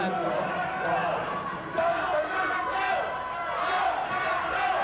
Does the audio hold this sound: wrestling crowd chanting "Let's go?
yes